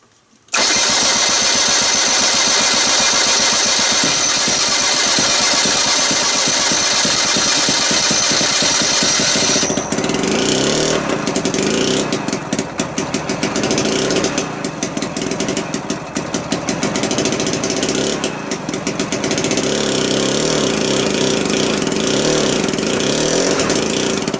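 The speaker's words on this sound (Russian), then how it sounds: "Так бывает, двигатель холодный" A small, cold petrol engine coughs into life and keeps running loudly up close, a steady droning roar broken by rough, uneven bursts.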